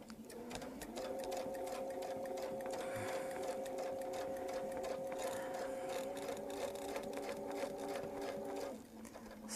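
A sewing machine stitches a small Baptist fan quilting pattern in one steady run of fast, even mechanical whirring, close and clear, then stops abruptly near the end.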